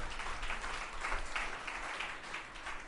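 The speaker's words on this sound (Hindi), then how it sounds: "आप लोग तालियां बजा रहे हो भगवान के नाम के लिए" Applause from an audience gathered for a weekly spiritual discourse, a steady dense patter of many hands clapping at even loudness for the full stretch, with no talk over it.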